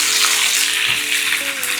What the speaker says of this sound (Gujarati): સારી રીતે સ્ટર કરી લો.